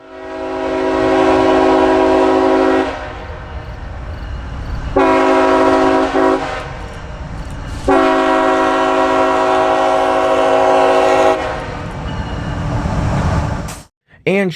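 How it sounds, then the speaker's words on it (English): A freight train on the Willard subdivision at Deshler sounds long, loud, close horn blasts in a repeated pattern over the steady rumble of rolling railcars and wheels on track. "we were immediately met with a few trains on the Willard sub"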